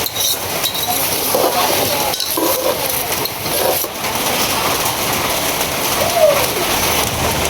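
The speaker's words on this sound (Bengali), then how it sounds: "প্রচুর স্পিডে বৃষ্টি আইতেছে।" Heavy rain pours down outside a village house in a steady, dense hiss that lasts throughout, with faint clinks and household sounds mixed in.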